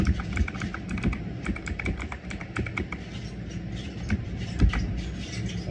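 Computer keyboard keys clatter in a steady, fast run of close, crisp taps while someone types in criteria for an appraiser table query, with no speech.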